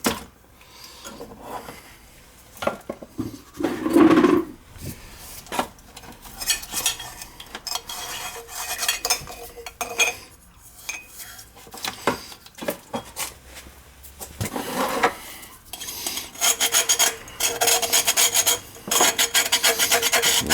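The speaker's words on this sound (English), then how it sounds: "Clean the rust out of there." Metal scraping and rasping as rust is cleaned out of an oil burner part during a service, coming in irregular bursts of close, gritty scrapes with brief pauses between.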